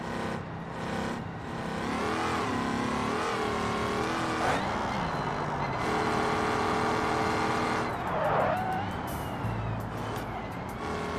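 A simulated car engine with valve train damage revs and drones in the BeamNG racing game, its pitch sweeping up and down through gear changes, loud and continuous, with tire squeals near the end.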